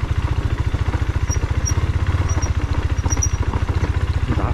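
A KTM 390 Duke motorcycle on a solo off-road ride throbs with a steady, rapid engine pulse, loud and close, holding an even rhythm throughout with no one talking.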